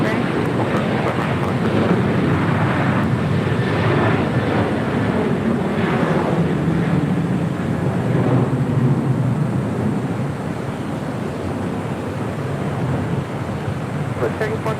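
Airliner taking off from runway 25 right at LAX, a loud broad steady engine roar and rush of wind-like noise filling the whole stretch, with a radio voice talking over it.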